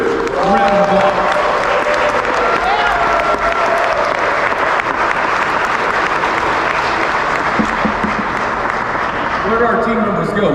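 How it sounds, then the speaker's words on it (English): A large audience claps loudly and steadily at a 2021 St. Louis charity head-shaving event, the applause running throughout with a speaker's voice heard at the start and near the end. "let's give them a huge round of applause"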